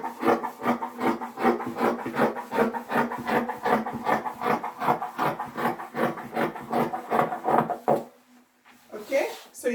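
Scissors cut fabric for a batwing kimono in steady, rhythmic rasping snips, close and continuous for several seconds before stopping, followed by a brief rustle.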